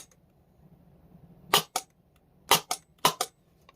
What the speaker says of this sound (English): I believe I actually shot all those BBs.